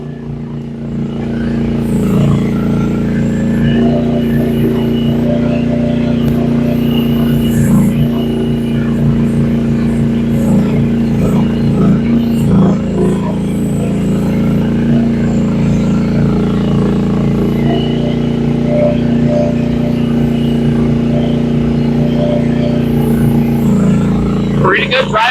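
A Rippa R10 one-ton mini excavator runs steadily with a loud, continuous low engine drone and occasional clanks of the machine moving, while people talk over it.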